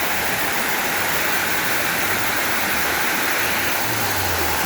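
Water spreading and pouring down Gabur Gabur Falls in Cagayan roars as a dense, steady rush, loud and close throughout with no voices.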